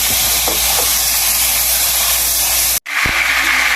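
Butter hitting a hot pan for a mixed seafood dish gives a loud, broad, steady sizzle that cuts out abruptly for a moment, then resumes just as strong.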